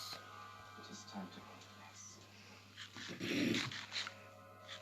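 Dogs in the game Cubecraft bark and growl in short bursts over a steady hum, with a louder cluster of snarling near the end.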